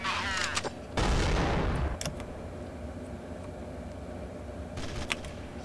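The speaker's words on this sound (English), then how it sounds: "Let's grenade around the corner." A grenade blast in Counter-Strike: Source on the de_Prodigy map gives one loud broadband boom with a rumbling tail. Brief game noises come before it and a few faint clicks follow.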